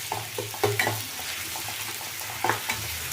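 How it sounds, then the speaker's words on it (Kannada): Ginger garlic paste sizzles with onions and green chillies in a pan, a steady close frying hiss broken by a few soft stirring scrapes, with no voices. "ಶುಂಠಿ ಬೆಳ್ಳುಳ್ಳಿ ಪೇಸ್ಟ್ ಹಾಕ್ತಾಯಿದ್ದೀನಿ."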